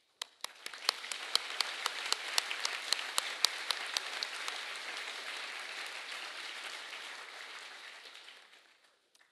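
Audience applause at a school leadership ceremony, beginning with a few distinct claps that swell into steady, dense clapping, fairly quiet and distant, then fading out near the end.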